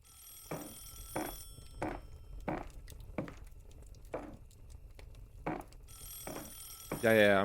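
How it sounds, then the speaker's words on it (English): A telephone in a horror video game rings in a slow, regular series of about eight separate bursts. Each is fairly faint, with quiet gaps between them, and a louder electronic tone comes in at the very end. "Nothing bad's gonna happen from me not taking the phone, right?"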